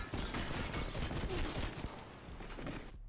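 Dense, rapid gunfire fills the whole moment as Apex Legends players shoot at a Mirage decoy, loud overlapping bursts with no pauses.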